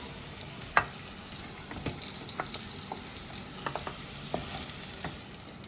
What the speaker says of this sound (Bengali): এবার আলুগুলোকে একটু লাল লাল করে ভেজে নেব